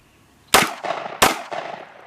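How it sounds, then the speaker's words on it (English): Pistol fired in a reloading drill, two sharp loud close shots about 0.7 seconds apart, each followed by a short echoing tail. "I'm going to fire until the gun is empty and then reload."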